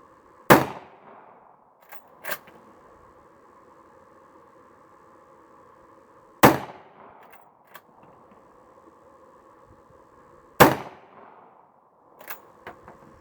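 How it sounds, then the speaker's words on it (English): Gunshots at an outdoor shooting range aimed at pop cans: three sharp, loud cracks spaced several seconds apart, each followed by a fainter secondary crack or ping, with a low fan-like hum between shots. "Shooting at pop cans."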